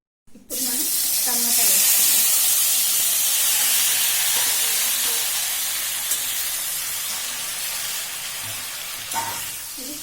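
Tomatoes dropped into a hot pan for tomato mint chutney, a sudden loud steady sizzle and hiss that starts abruptly and slowly softens over several seconds, with faint clatter.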